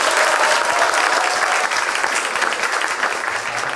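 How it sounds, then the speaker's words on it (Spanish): Loud, steady applause from an audience, dense clapping that holds for several seconds without a break. "Un fuerte aplauso, por favor, para Camilo Arevalo"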